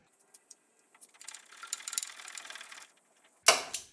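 Hand ratchet tightening an engine mount bolt on a Mercedes-Benz W126 300SD with an OM617 engine, giving a close, quick run of fine clicking with a few isolated ticks before it and a sharp metallic clank at the end.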